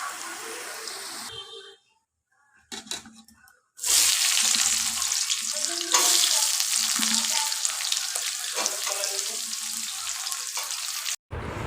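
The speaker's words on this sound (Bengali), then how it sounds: "এবার বাটা মাছগুলোকে ভালো করে ভেজে নেব।" Bata fish frying in hot oil in a wok, a dense steady sizzle that starts after a brief quiet gap and continues loud and close, with a few clatters of handling near the start.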